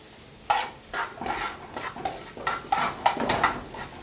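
Vegetables with about a clove of minced garlic being sautéed in a pan, giving irregular stirring scrapes and clinks over a soft sizzle, close and moderately loud, with no talking.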